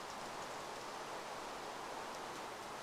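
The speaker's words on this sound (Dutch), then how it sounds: "stop met die regen" Steady rain in Minecraft, a soft, even hiss of falling drops continuing throughout at low level with no other sounds.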